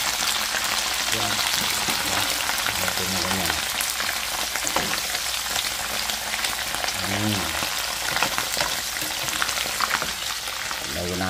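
Small tawilis fish fry in hot oil with a loud, continuous crackling sizzle, steady from start to finish and close up, with faint stirring and a few muffled voices underneath.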